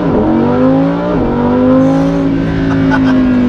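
A Lamborghini Huracan EVO engine in Corsa mode revving loudly and close, its steady droning pitch dipping and climbing again with a brief blip near the start and near the middle, with no talking.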